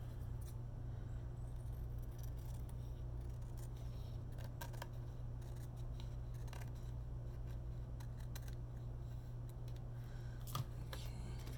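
Scissors trim fabric scraps: quiet, scattered snips and clicks heard close up over a low, steady background hum.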